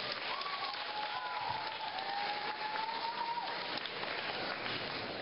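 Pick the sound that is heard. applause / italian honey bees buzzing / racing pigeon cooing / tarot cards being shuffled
applause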